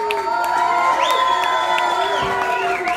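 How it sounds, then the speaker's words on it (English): Concert crowd at the Blue Note in Honolulu cheering and whooping for a band, with shouts and whistles over sustained tonal sound, steady and fairly loud throughout. "And another warm round of applause for this incredible band."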